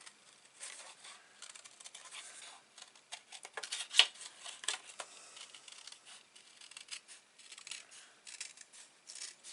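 Quiet, close snipping and crisp paper cuts come in irregular short bursts, like scissors trimming around a snow globe shape.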